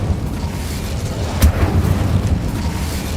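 An Incendio fire spell cast in Hogwarts Legacy bursts with a single whooshing, booming flare, followed by a low rumbling roar that lingers at steady loudness.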